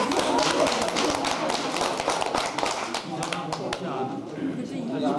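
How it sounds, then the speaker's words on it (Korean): Hand clapping from a small gathering at a 60th-birthday family celebration, dense and fairly close, running steadily throughout with voices chattering over it. "박수로 받아야 돼"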